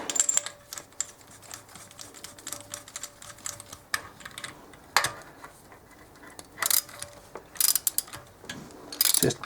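A hand ratchet tightens a spark plug on a pit bike in a close, dry series of rapid clicking bursts that come and go irregularly, with faint background hum and no talking.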